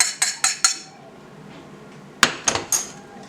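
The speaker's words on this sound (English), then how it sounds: "Stir that so it's all incorporated." Coconut oil, honey and vanilla are stirred in a bowl, a spoon clinking sharply against the sides in a quick run of knocks, then a pause, then another burst of clinks.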